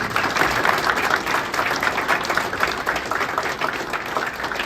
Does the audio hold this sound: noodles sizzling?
no